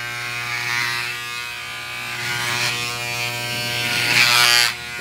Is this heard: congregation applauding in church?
no